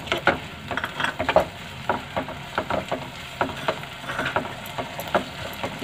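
Idli manchurian with spring onions is stir-fried in a pan, a rhythmic run of quick scraping, tossing strokes over a light sizzle, close and steady for several seconds.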